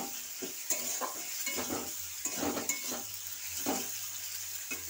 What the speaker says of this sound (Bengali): ভালো করে নাড়াচাড়া করছি।